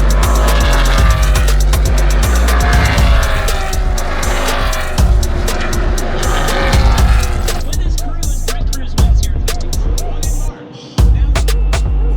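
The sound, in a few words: NASCAR race car speeding down front straightaway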